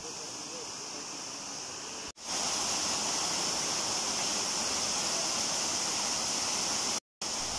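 Waterfall flowing in a wild outdoor setting, a loud, steady roar of falling water heard close by, cut off briefly by two abrupt gaps.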